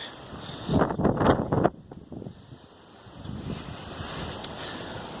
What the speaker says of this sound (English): There's a southwesterly wind, here we go.